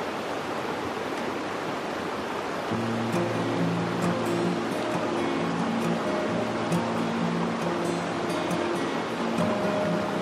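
A river flows beside a campsite in a forest of the Central Cascades, Washington, giving a steady, broad rushing wash that fills the scene while soft musical tones rise beneath it.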